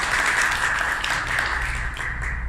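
A church congregation applauding loudly, a steady wash of many hands clapping together without pause, full and close throughout.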